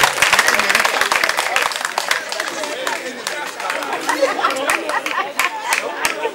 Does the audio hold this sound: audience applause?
yes